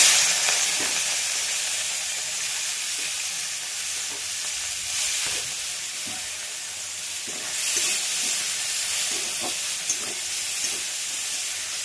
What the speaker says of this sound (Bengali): এবার এই তেলের মধ্যেই চিংড়ি মাছগুলো ভেজে নেব